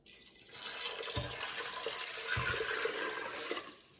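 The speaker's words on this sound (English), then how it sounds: "I'm gonna put 6 cups of liquid in here" Six cups of liquid pour into a pressure cooker in a home kitchen, a steady close splashing rush lasting several seconds with a couple of low thumps, fading at the end; no speech.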